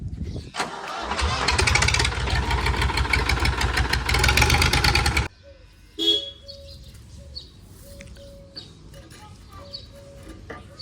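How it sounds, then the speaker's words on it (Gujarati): A tractor engine cranks and roars to life loudly for several seconds, then cuts off, leaving quiet with a few short knocks and distant birds. "મારા ભાઈ ટ્રેક્ટર ચાલુ કરે છે"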